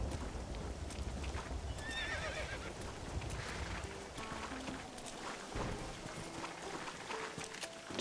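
In the video game Red Dead Redemption, a horse whinnies and snorts while hooves clatter steadily, with splashing movement and game ambience in the background.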